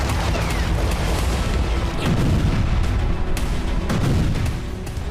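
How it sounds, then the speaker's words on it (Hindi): Grad rocket launcher artillery fire in a war zone near Starомayorske, Donetsk: a dense, continuous rumble of booms and crackling blasts, loud and sustained, with a few sharper reports standing out. "डोनेस्क के स्तारोमेयोर्स्की में रूसी सेना ने ग्रैड रॉकेट लॉन्चर से जबरदस्त तबाही मचाई"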